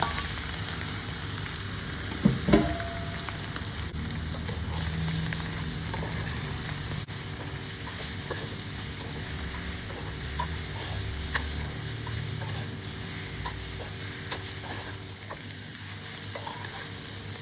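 Shrimp and salted egg stir-fry in a hot pan with a steady close sizzle, plus occasional spatula scrapes and clinks, one louder knock near the start.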